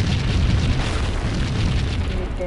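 An explosion in the video game Max Payne, a dense continuous roar of loud rumbling blast noise filling the whole moment with no pause.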